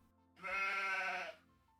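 A sheep in a video game gives a single clear bleat, a wavering nasal call lasting under a second, close and distinct against near silence.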